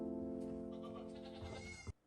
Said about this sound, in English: Why we got like a fucking vibey goat video?